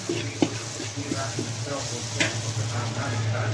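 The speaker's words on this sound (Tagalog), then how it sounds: "Gisa tayo ng bawang" Garlic sautéing in a pan as the base for adobong pusit, a steady close sizzle with a few light stirring scrapes and clinks running through it.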